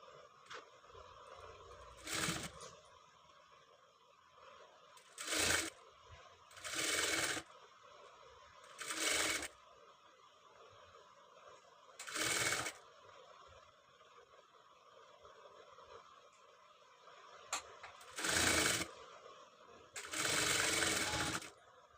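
Sewing machine stitching around a katori blouse piece, running in several short bursts of a few seconds each with quiet pauses between them, fairly close and alone without talk.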